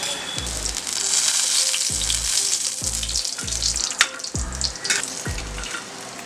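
Elephant yam pieces fry in hot oil with a continuous close sizzle, while a series of low thumps recurs at roughly regular intervals.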